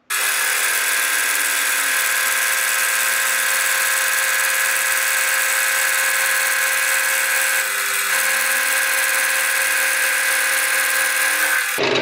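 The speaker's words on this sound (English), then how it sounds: "I'm using my 50mm face mill, and I'm just going to take a light skim across these four sides" A 50mm face mill takes a light skim across the sides of a steel T-nut block on a milling machine, a loud, steady high whine with a metallic buzz that holds throughout, with slight pitch dips as the cutter engages.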